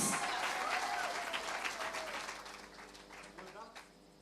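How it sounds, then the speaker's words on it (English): Audience applause at the Vunani Annual Botswana Women Sports Awards, a dense burst of clapping filling the hall before thinning out near the end, with some voices mixed in. "A round of applause."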